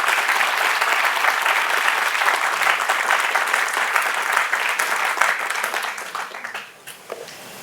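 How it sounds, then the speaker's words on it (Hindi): Loud audience applause at a campus event, dense sustained clapping from a crowd that fades down in the final second. "तो एक बार जोर से तालियां"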